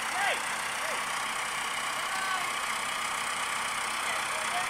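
A tractor moving a static caravan runs with a steady engine rumble, continuous at a moderate distance, with voices of people talking over it.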